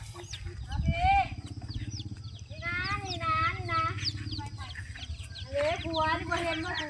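Small chickens cluck and peep repeatedly in a backyard coop, the calls rising and falling in close bursts over a steady low background hum, with no clear talk.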